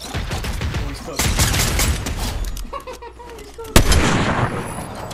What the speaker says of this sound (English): that's a cluster bomb on them